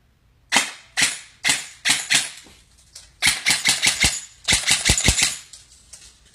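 A Krytac PDW electric airsoft gun (Canadian version) fires on semi-auto with sharp, snappy close shots: a few evenly spaced single shots, then quicker strings of rapid trigger pulls.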